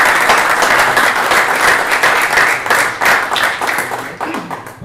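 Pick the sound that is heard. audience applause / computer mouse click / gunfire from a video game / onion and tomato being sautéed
audience applause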